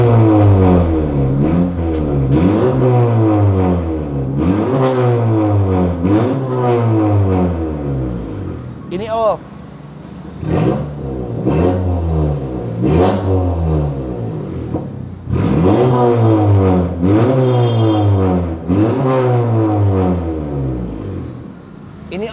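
A modified Honda Civic turbo hatchback revs through a twin-muffler exhaust with the valve open, a long series of loud, close, rhythmic throttle blips with a short pause midway.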